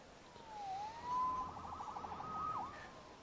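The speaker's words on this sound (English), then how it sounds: "Saved by the siren." A faint, distant siren wailing up and down in pitch, quiet beneath low background noise.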